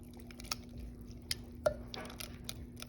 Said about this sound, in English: I'm gonna mix the sausage and the egg.